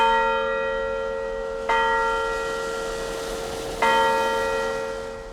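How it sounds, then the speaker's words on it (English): Church bells in Clarksville ring at noon to mark the 19th Amendment's women's suffrage centennial, with two clear strikes whose sustained tones hum and slowly decay, close and alone without talk. "Bells were ringing in Clarksville today to celebrate women's voting rights"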